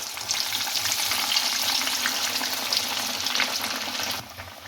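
Marinated fish pieces frying in medium-hot oil in a kadhai, a steady close sizzle that holds evenly for about four seconds, then eases off near the end.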